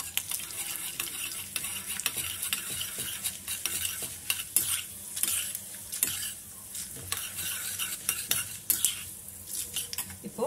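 Lentils frying in a little oil in a pan, a soft continuous sizzle under frequent light scraping and clinking of a spoon stirring, fairly quiet and close, with no voices.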